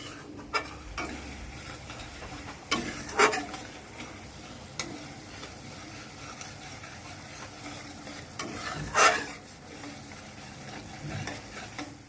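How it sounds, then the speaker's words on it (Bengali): A spatula stirs a spice mixture in a pan for a katla fish curry, quiet low sizzling punctuated by a few louder scraping strokes and clinks spread unevenly across the stretch, close and without talk. "এবারে একটু নাড়াচাড়া করবো খুন্তিটা দিয়ে।"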